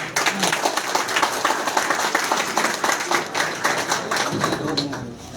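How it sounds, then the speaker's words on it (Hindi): Crowd applause at a Rashtriya Janata Dal gathering welcoming a speaker onto the stage, a dense and steady wash of many hands clapping continuously, fairly loud throughout. "आप लोग तालियों से स्वागत करें।"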